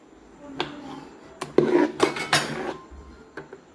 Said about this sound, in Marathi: आणि मीठ टाकल्यानंतर असं हे छान मिक्स करून घ्यायचे